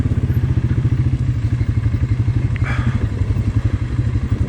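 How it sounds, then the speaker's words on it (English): Polaris Sportsman 570 ATV engine braking on a steep off-camber downhill trail, steady low pulsing engine thrum close to the rider, with a brief scrape or rattle midway. "Polaris engine braking's working"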